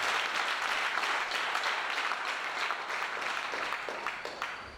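A church congregation at a youth seminar applauding, a dense, steady wash of clapping from many hands that fades slightly toward the end, heard at moderate distance.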